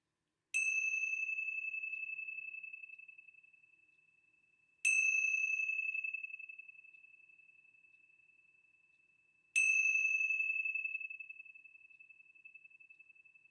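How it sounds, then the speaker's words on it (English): A bell is struck three times at slow, even intervals, each strike ringing out clearly and fading away into silence. "let's begin our time together with the ringing of the bell"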